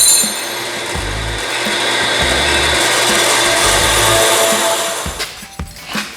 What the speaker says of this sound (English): Now I'm going to cut it out on the bandsaw.